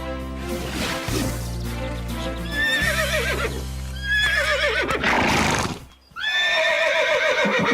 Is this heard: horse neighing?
yes